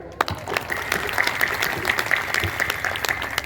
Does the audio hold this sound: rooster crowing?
no